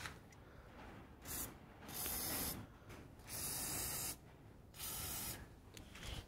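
An aerosol spray can coats Farmall M tractor parts with paint in several hissing bursts of about half a second to a second each, separated by short pauses. The sound is close and loud, with no talking.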